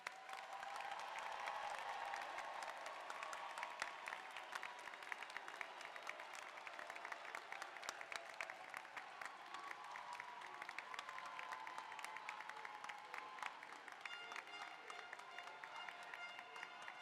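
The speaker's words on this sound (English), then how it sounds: "please join me in another round of applause for our graduates" Crowd at a spring commencement ceremony applauding graduates, a sustained, even roar of many hands clapping heard from a distance across a large hall.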